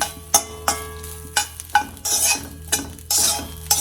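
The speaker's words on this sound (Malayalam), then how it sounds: "നമുക്കിനി നല്ലപോലെ ഒരു ഇളക്കി ഒരുപോലെ മൂപ്പിച്ചെടുക്കണം" Coconut with whole chillies and coriander roasting in a pan, stirred in quick scraping strokes over a light sizzle, close and brisk with short gaps between strokes.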